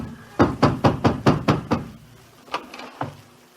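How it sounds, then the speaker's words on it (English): Six fast, heavy knocks hammer on a landlady's wooden door, followed by two slower, softer raps, close and loud in a radio drama scene. "I hammered on my landlady's door and..."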